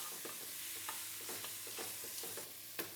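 Tomato being stirred into a hot sauté pan, a scraping spoon stroke every half second or so over a low, steady sizzle, close and fairly quiet with no voices.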